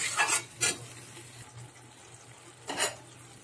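Water goes into a pan of frying prawn and plantain curry, bringing a soft sizzle and a few splashing, stirring bursts up close, with quieter simmering between them and no voice.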